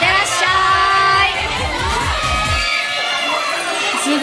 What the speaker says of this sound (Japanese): すごい歓声が、